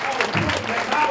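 A conference audience of teens claps for a short burst, a dense, even patter of many hands filling the room for about a second with a murmur of crowd underneath.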